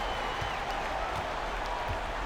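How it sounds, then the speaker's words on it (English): Home arena crowd noise from NBA 2K19 during an Atlanta Hawks versus Memphis Grizzlies game, a steady dense roar of cheering that holds at an even level throughout. "I think this hometown crowd agrees with you. They are fired up about it."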